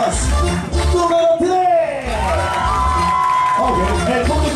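A lively crowd aboard the Triton yacht at San Andrés Island cheers and whoops, with loud shouting voices rising and falling over a thick, close mass of crowd noise and scattered clapping.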